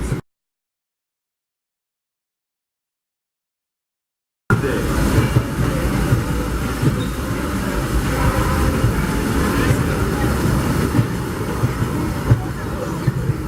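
After a few seconds of silence, the Disneyland Railroad steam train, locomotive Ernest S. Marsh #4, rumbles steadily along the tracks with a continuous rolling noise and faint clatter.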